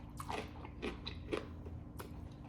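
Close, crunchy chewing of crisp vegetables and delicate noodles from a self-heating instant hot pot, with several distinct bites and wet crunches spaced through the mouthful.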